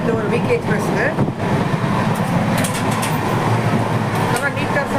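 A weekly express train from Thiruvananthapuram rolls along fast at around 130 km/h, making a steady, dense rumble and rattle throughout as someone talks over it.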